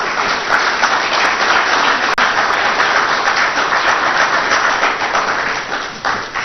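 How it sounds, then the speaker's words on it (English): Sustained applause from the audience at a foreign direct investment speaker series, a dense, loud wash of many hands clapping continuously for several seconds, fading slightly near the end. "would you give us a round of applause"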